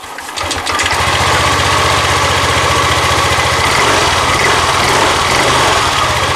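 A Yamaha Lexi scooter with an intermittent sputtering fault starts up and settles into a steady, loud, close idle that drones on for several seconds with no talking.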